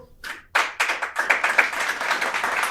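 An audience claps at a podcast recording, a brief smattering that swells into steady, close applause lasting a few seconds with no voices over it.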